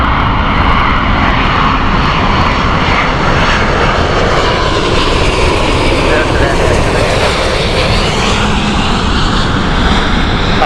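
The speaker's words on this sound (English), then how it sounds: "Air China, Airbus A350-900, this is the Beijing Peking flight." An Air China Airbus A350-900, about two years old, on the Beijing flight at Heathrow Airport, roars loudly and steadily throughout with a broad jet engine rumble and no pause.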